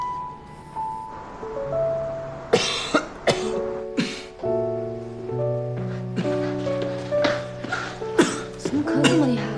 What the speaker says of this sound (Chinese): 怎么咳这么厉害啊